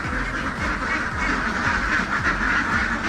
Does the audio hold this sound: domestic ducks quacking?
yes